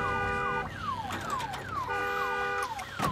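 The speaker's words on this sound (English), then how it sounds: "hey, surprise, that car had an alarm" A car alarm blares in the video game Days Gone, a loud repeating electronic siren with falling sweeps and steady tones cycling over about three seconds, with crackling game ambience underneath.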